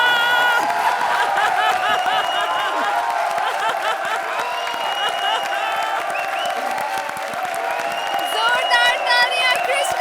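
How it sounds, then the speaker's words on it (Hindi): Loud, dense applause from a large comedy show studio audience with cheering mixed in, steady throughout. "जोरदार तालियां यूनिक जोड़ी के लिए प्लीज।"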